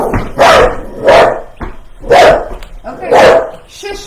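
A dog barks in five loud, evenly spaced bursts close by, each a sharp full-bodied woof with a short gap between, and no other sound around it.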